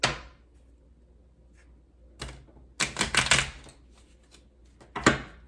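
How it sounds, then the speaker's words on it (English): Tarot cards being shuffled in sharp, quick riffling bursts separated by quiet pauses, close and fairly faint, with no talking. "let's shuffle one more time"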